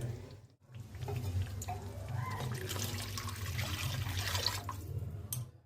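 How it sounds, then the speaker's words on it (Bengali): Water is poured into fried mustard paste in a cooking pan, giving a close, steady splashing and sizzling gush that lasts several seconds after a brief pause. "এবারেতে আমি জল দিয়ে দেবো"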